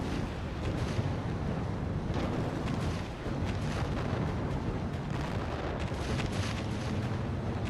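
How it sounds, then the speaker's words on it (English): Cannon fire in the mech combat game Mecha Knights, a dense, continuous barrage of booming blasts and rumbling impacts layered over each other, loud and unbroken throughout. "What I'm doing is I'm just offsetting my fire here with the cannons again"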